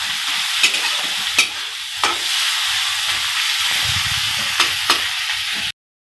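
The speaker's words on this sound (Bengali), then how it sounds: "এইগুলো একটু লাল করে ভাজতে হবে।" Ingredients for butter paneer masala fry in a hot pan, giving off a steady close sizzle with a few sharp spatters and faint stirring clinks.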